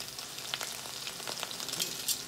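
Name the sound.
salmon sizzling while pan searing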